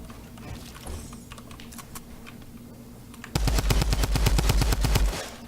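Rapid automatic gunfire from a shooter video game rings out loud and close in a fast rhythmic burst after a quieter stretch of clicks.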